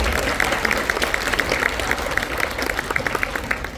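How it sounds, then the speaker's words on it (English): Applause from the audience at a school wind ensemble spring concert, a dense, steady round of clapping that fills the hall for several seconds. "applause."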